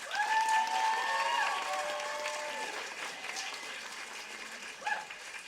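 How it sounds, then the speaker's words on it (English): An audience gives a final round of applause for the actors after a cold reading at a young playwrights' festival, moderately loud clapping that gradually fades out, with faint voices near the end. "And a final applause for our amazing actors."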